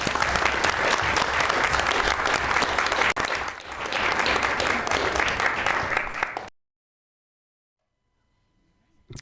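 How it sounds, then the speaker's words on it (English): A crowd at a school board meeting applauds loudly and steadily for several seconds, then the clapping stops abruptly into near silence. "give yourselves a round of applause."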